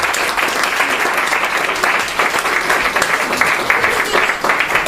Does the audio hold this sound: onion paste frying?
no